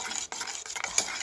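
Betageri chutney ingredients stirred and mixed by hand in a bowl, a close, continuous scraping and squishing with a couple of brief dips in level, no voices.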